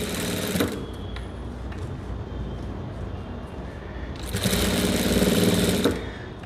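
A sewing machine stitches a blouse in quick mechanical bursts, a brief run at the start and a longer, louder run near the end, with quieter handling between them and no speech.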